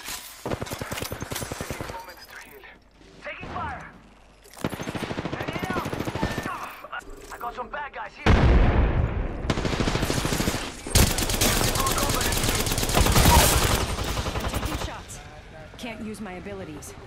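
Rapid bursts of automatic gunfire from an Apex Legends firefight crackle in repeated volleys, loud and close, broken by short pauses, with spoken callouts in between.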